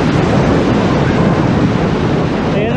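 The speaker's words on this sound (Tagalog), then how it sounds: "Lakas ng hangin, lakas ng alon." Steady roar of strong monsoon wind buffeting the microphone over crashing ocean surf on a Boracay beach, loud and continuous throughout.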